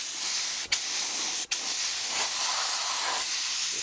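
Spray gun laying a thin coat of gold two-stage acrylic enamel custom paint on a 1987 Yamaha VMAX, a steady close hiss held for nearly four seconds with two brief cut-offs early on.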